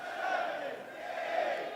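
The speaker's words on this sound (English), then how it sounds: "Crowd chanting behind him." Wrestling crowd at a Los Angeles event chanting together in a steady, continuous roar of massed voices, moderately distant and filling the whole moment without a break.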